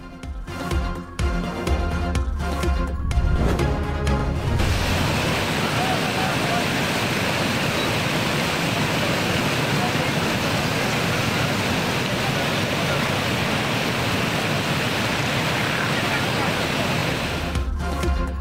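Heavy monsoon rain in Rawalpindi pours down with a dense, continuous roar, with water rushing through flooded low-lying streets. A speaking voice comes before the steady downpour and returns briefly at the end.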